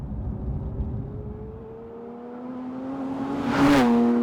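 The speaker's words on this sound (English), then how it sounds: "They both have the same 4-litre flat-six engine producing 510 horsepower and 470 Nm of torque" Porsche 911 GT3 Touring with a 4-litre flat-six engine, a steady mid-level drone that climbs smoothly in pitch as it accelerates, then swells louder near the end as it sweeps past.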